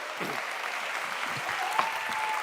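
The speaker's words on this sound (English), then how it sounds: "See you a nice round of applause." Audience applause fills the space, a dense, steady patter of many hands clapping at moderate distance with a brief whoop-like cry near the end.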